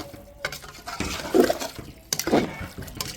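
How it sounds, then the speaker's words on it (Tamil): About two liters of water go into a pot of Nattukoli Pallipalayam country chicken curry, sloshing and gushing in two loud close bursts with quieter trickling between. "இது தேவையான தண்ணி ஊற்றிடலாம் தண்ணி ஒரு ரெண்டு லிட்ரு"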